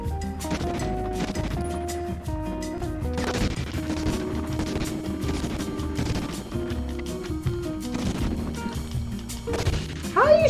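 Enemy gunfire in the original PS1 Medal of Honor crackles in rapid bursts amid game music and sound effects, sharp shots spread through the scene without talk.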